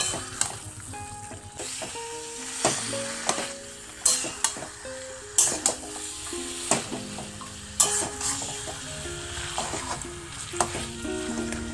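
Chicken pieces are stirred and fried in a pan with a continuous close sizzle. Rhythmic scrapes and knocks of a spatula against the pan repeat every second or so.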